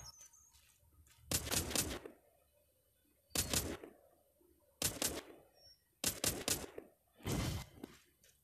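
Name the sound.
gunfire during shooting training in The Walking Zombie 2 video game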